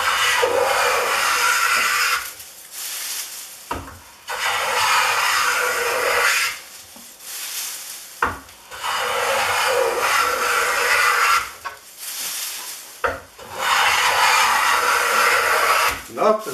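Stanley No. 129 Liberty Bell fore plane cutting a 1-inch wide walnut board, with four long hissing shaving strokes separated by brief pauses, close and loud.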